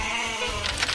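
A goat bleats in a short, wavering cry close up, with an animated-cartoon feel and a faint background bed.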